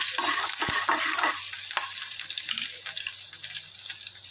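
A spoon stirring chopped potatoes through a fiery chilli tempering in a pan for a fasting masala dosa filling, with close scraping and light sizzling under a steady hiss and occasional clinks, no voices.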